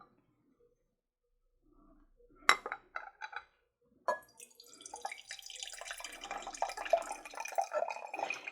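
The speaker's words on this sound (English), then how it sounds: "Before we pour off the excess here" Excess tea being poured off from a cup holding unicorn egg, sakura blossom and jade leaves, a few faint clinks and drips first, then a soft, steady trickle of liquid.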